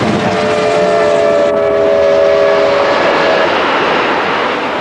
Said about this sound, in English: The whistle would change its tune as it went by.